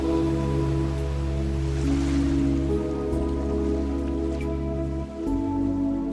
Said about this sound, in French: le bruit de la vague qui vient mourir à vos pieds